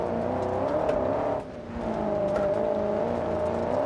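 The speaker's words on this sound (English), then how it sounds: "Oh, that engine." A rally car with a naturally aspirated Bruckle V8 and a 5-speed manual revs steadily in the BeamNG driving game, a loud droning engine note that dips briefly and then returns, with no talk.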